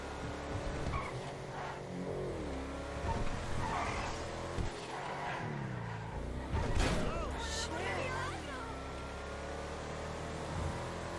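A BMW X5 SUV drives in GTA 5 Online, its engine droning and revving steadily with a few surges and tire noise, while someone talks over it throughout.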